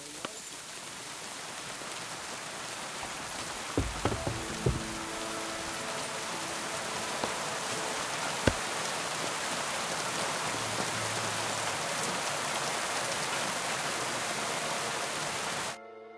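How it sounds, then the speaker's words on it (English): Steady rain pours in the medieval video game Kingdom Come 2, a dense even hiss that runs unbroken throughout, with a few brief knocks and faint tonal sounds rising out of it partway through. "It'd be better if it wasn't raining"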